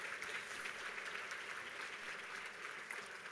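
Steady audience applause fills a luncheon room, even and sustained with no voices standing out, fairly quiet and distant.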